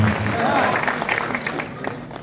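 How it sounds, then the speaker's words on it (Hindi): Applause from a crowd at a business seminar, dense clapping mixed with voices and murmuring, fading somewhat toward the end. "हमारे पूजनीय पिताजी के लिए अभी तक की सबसे जोरदार ताली चाहूंगा दोस्तों"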